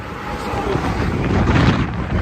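Strong wind gusts roar across the microphone beside a roadside truck stop, a continuous buffeting rush that swells louder toward the end.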